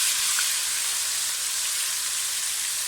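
Green chillies in hot oil in a cooking pot give a continuous, close, dense sizzle and crackle, steady in loudness throughout with no voices.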